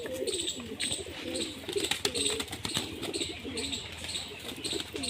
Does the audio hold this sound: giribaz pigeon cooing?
yes